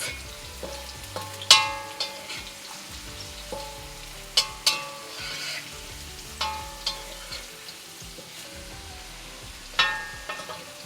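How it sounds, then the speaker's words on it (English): Potatoes fry in mustard oil for a chicken curry, a soft steady sizzle broken by repeated ringing clinks of a metal spoon against the pan at irregular intervals, with no talking. "when you fry potatoes in mustard oil, they don't crisp the same way that if you fry them in vegetable oil"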